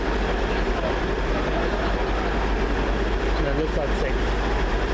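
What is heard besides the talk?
train arriving at Edinburgh Waverley station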